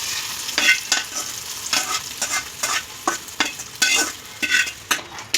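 A spatula scrapes and stirs fried ingredients into rice in a pan, producing repeated scraping strokes over a steady sizzle, close and fairly loud with no talking.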